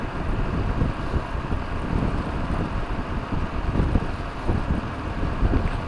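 Strong wind buffets the microphone during a night motorcycle ride in a continuous low rumble, with steady gusting roar throughout and no voices.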